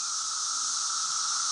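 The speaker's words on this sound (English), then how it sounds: "that's even more cicadas all at the same time." A dense chorus of many cicadas fills a wildlife refuge woodland with a constant high-pitched, even drone, loud and unbroken with no other sounds.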